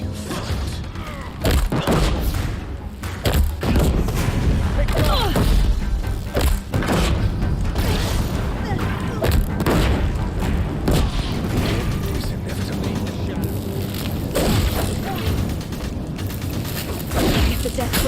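Deathbringer war machines firing in Horizon Zero Dawn, a dense barrage of booms, thuds and mechanical clatter sustained throughout with loud game action and some voices over it.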